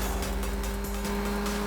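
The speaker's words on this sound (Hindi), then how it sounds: "तू जल्दी गाड़ी भगा।" A car speeds away fast in a Hindi-dubbed action movie scene, a loud, steady engine roar with a low rumble and road noise sustained throughout the brief moment, no talking.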